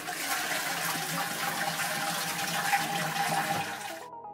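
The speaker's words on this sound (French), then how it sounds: "Veillez à chaque fois chasser de l'eau quand vous finissez de faire popo." A toilet flushing in a public restroom, a loud steady rush of water that runs for about four seconds before cutting off abruptly, with no talk.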